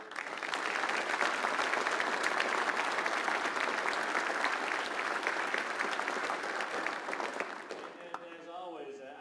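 Applause for an admiral from a military audience at Yongsan fills the room, dense and steady for about eight seconds before thinning out, with a voice starting to speak near the end.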